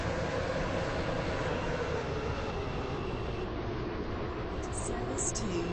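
A train arrives at a station in the video game Stepford County Railway, a continuous rolling rumble and hum that slowly eases, with a few faint high chimes near the end.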